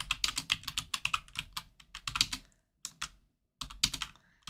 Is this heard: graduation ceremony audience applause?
no